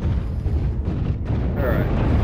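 Rumbling missile explosions pound through MechWarrior Online combat on Polar Highlands, a dense continuous low boom with crackling bursts, loud and near throughout, with a game warning voice faintly under it.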